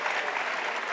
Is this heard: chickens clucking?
no